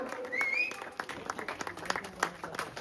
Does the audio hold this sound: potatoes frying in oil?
no